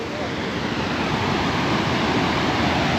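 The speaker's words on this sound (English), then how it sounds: "Ta-da! Waterfall." A waterfall on the Little River Trail in the Olympic rainforest roars as a dense, steady, loud rush of falling water close by, with no pauses.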